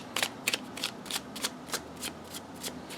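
Lenormand cards being shuffled by hand, a steady series of soft, crisp riffling snaps repeating roughly every third of a second, close and fairly quiet with no talk.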